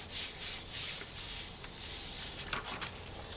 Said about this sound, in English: I'm just going to pop that on, then just give it a light burnish so that it sticks down onto the clay